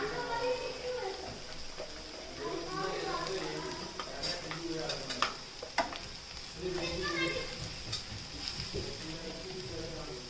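A bitter gourd fry with crushed lentils and coconut powder sizzles in a pan while it is stirred, with steady frying noise, clinks of a spoon against the pan and a voice talking over it.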